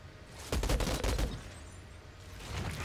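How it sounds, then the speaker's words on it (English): In the video game Outriders, a rapid burst of gunfire rattles for about a second, followed by fainter shots and a low rumble in the background, with no speech. "they're shooting back"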